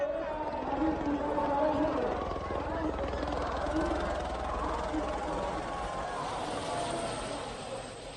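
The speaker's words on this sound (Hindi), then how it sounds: "श्रद्धालुओं पर हेलीकॉप्टर से 20 क्विंटल फूलों की वर्षा की गई।" Helicopter flying low over a vast crowd of pilgrims at the Maha Kumbh in Prayagraj while it showers flowers, a steady loud rotor and engine drone blending with continuous crowd noise and talk.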